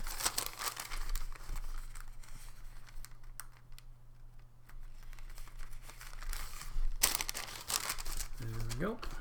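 A sheet of paper being folded up close, with crisp crinkling and rustling that swells and fades in a few bursts, a faint steady hum behind it.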